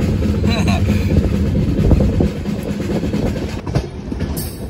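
A superfast express train rumbles along the rails from Kolkata to Chennai with rhythmic clattering, loud and close from on board, easing slightly in the second half with a few sharp knocks.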